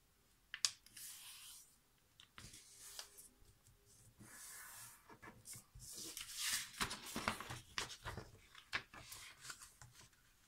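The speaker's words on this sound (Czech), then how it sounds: "Takže přiložíme papír na 2 půlky." A sheet of paper being folded in half to make a paper popper, close crinkling, rustling and creasing strokes in irregular bursts, quiet at first and busier toward the end, with no talk.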